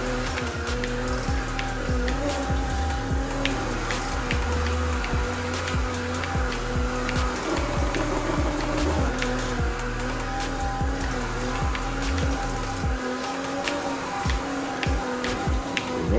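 A pickup truck with a tuned 3.8 V6 making about 430 horsepower drifts in a racing video game, the engine droning loudly with repeated revving and gear changes, tire squeal and a rain-like hiss throughout.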